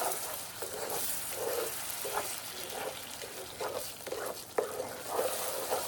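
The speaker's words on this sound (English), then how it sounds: "I'm just going to add my 6 tablespoons of butter. I'm going to stir that in till it's nice and melted." Butter stirred into hot candy syrup in a pot for butterbeer, soft sizzling and intermittent scraping strokes of a utensil, fairly quiet and close, no talk.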